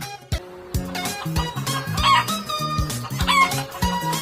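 Chickens cluck busily nearby while a rooster crows, the calls overlapping in a lively farmyard chorus.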